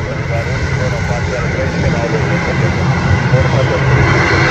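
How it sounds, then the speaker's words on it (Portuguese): Loud, steady roar of an airplane jet engine close by at Guarulhos airport, building slightly in intensity, with a voice talking over the noise. "Avião com a pintura na calda aí, ó."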